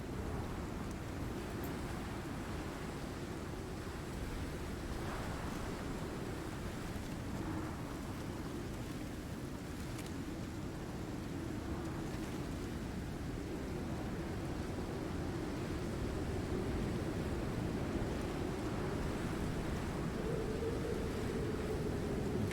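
Wind in the survival video game Icarus, with a thunderstorm approaching: a steady, low rushing roar that holds for the whole stretch with no voices.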